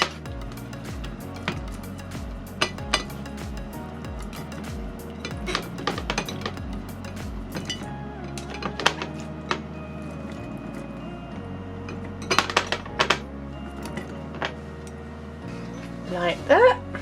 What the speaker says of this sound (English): we're going to place the fruit into the jar